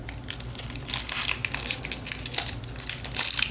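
Scissors cut open a trading card foil pack, giving a close, continuous crinkling and crackling of foil over a few seconds, with no voice.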